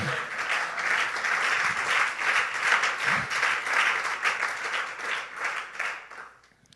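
A church congregation applauds in sustained, dense clapping that holds steady for several seconds, then fades out at the end, with no voices on top.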